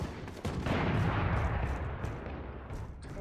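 Gunfire rings out in the shooter game Valorant, a loud, sustained burst of weapon fire that opens with sharp cracks and roars continuously for about three seconds.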